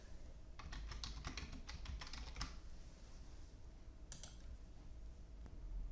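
Quick bursts of typing on a computer keyboard, close and faint, with a short cluster of keystrokes and a click later, over a low steady background hum.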